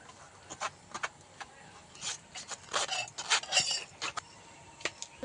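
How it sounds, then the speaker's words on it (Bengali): Boiled potato pressed and scraped through a metal strainer, quiet rhythmic rasping and rubbing strokes with faint clinks, close and without talk. "আলুটা এইভাবে স্ট্যান্ডারের ছেঁকনি দিয়ে ছেঁকে নিতে পারেন, নইলে কাঁটা চামচ দিয়েও ম্যাশ করে নিতে পারেন।"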